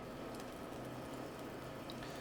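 Teaspoons of light, moussey canapé mixture frying in a pan, giving a faint, steady sizzle with soft bubbling and no talk over it.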